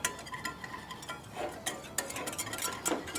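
A whisk works a flour roux paste in a pan, giving quick irregular scraping and clicking strokes against the metal, fairly quiet and close, with no talking.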